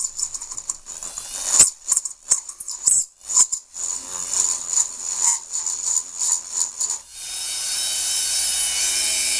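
Small Dremel rotary tool grinding out a bolt hole in a homemade alcohol stove, with scratchy bursts of contact and brief pauses, then a steady sustained high whine at the end, close and loud.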